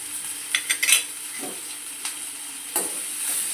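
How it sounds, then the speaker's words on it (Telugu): Ridge gourd pieces with tamarind fry in a pan, giving a steady soft sizzle with a few close scraping stirs and clinks spread across the few seconds. "ఎర్రగా వేగేదాకా ఉంచుకోవాలి."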